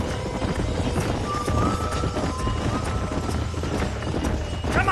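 Horses gallop in the Red Dead Redemption video game, with a dense, continuous drumming of hooves close by and a brief whinny-like tone in the mix.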